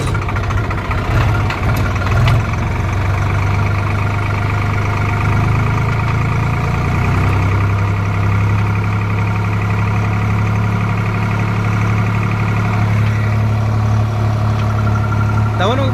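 A Swaraj 735FE tractor in first gear runs with a steady engine drone and a sustained whining transmission noise, loud and close, continuing unbroken throughout.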